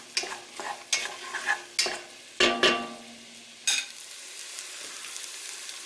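Onions and celery salted in a pot sauté as a spoon stirs them, with a series of crisp scraping strokes over a light, steady sizzle, close by and with no talk.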